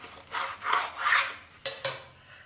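Knife sawing through a crispy fried chicken sandwich on a plate: a few close, crunchy scraping strokes, then two short sharp crackles as the blade hits the crust.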